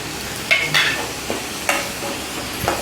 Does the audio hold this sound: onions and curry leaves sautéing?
yes